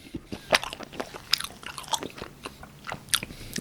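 A BHC Bburinkle cheese ball bitten and chewed up close, with crisp crunchy bites in a loose rhythm and softer wet chewing between them, quiet and intimate with no talking.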